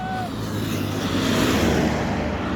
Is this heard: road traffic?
yes